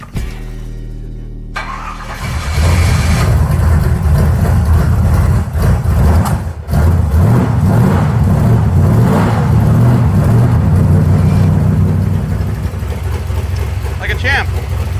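A drag race car with a fresh spark plug cranks, fires up and roars into loud, rough revving, the engine close and dominant with a brief dip before surging again and holding a heavy idle-to-rev rumble.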